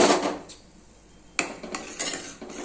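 A utensil scrapes and knocks against a pot while stirring chutney, in a few uneven strokes, close by, with short clanks between quieter stretches.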